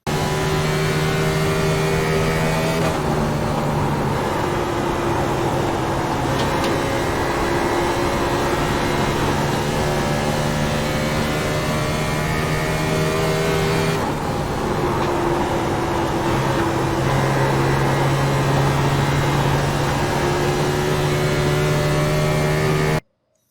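Race car engine in the iRacing sim at Dover, a steady loud drone whose pitch rises and falls with shifts and throttle through the lap, with tire noise mixed in and running continuously throughout.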